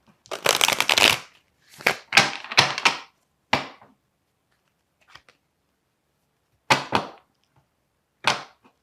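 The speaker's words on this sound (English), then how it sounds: "But I want to pull another card here." Tarot cards being shuffled by hand in several quick riffling bursts, close and crisp, with silent pauses between them and no talking.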